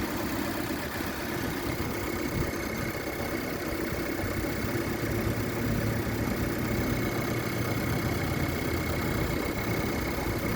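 2020 Subaru Impreza engine idling under an open hood, a steady, even mechanical hum and whir without revving, close and continuous.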